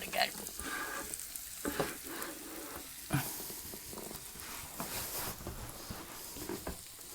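Onions fry and sizzle in a pan while being stirred, with a steady hiss and intermittent scraping strokes and taps of the utensil, close up and fairly quiet.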